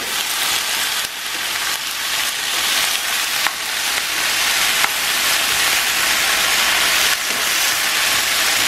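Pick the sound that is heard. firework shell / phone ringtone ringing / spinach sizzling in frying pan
spinach sizzling in frying pan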